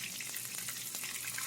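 Shrimp frying in cooking oil for bang bang shrimp, a steady broadband sizzle with soft crackles, close and continuous with no talk.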